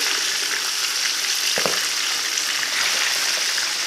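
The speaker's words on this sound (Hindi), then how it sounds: "दोबारा फ्राई में डालते हैं।" Lahori masala fish pieces fry in oil for a second time, a loud, dense, continuous sizzle close up with a brief bubbling burst midway and no voices.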